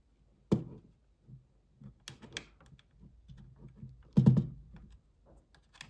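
A plastic pry tool opens a Steam Deck OLED case: a few sharp plastic clicks and snaps, close up, with a louder pair of cracks near the start and again toward the end, separated by quieter fiddling.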